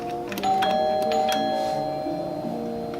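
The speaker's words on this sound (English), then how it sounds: "Is the doorbell working?" A tonal chime rings steadily with sustained ringing pitches and faint ticking clicks, moderately loud, with no voices.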